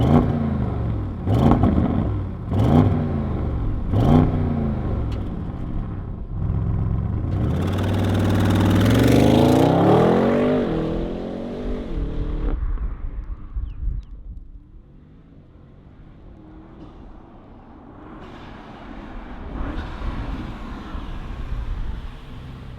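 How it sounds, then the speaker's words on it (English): Cold start of a 2025 Audi RS7 Performance V8 with the RS Sport exhaust: cranking clicks, then a loud rising bark that settles into a deep rumbling idle, later swelling again, heard close with no talking. "let's fire up this V8. We got the RS Sport exhaust"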